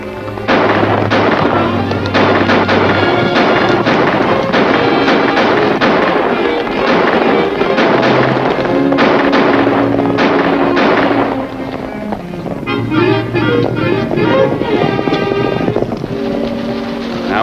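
Gunfire in a western film scene: a rapid volley of loud, sharp shots cracking over dramatic orchestral music, continuing in bursts before the music carries on with fewer shots.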